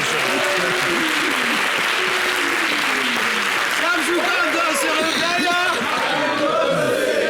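A large crowd applauds steadily and loudly throughout, with cheers and voices mixed into the clapping.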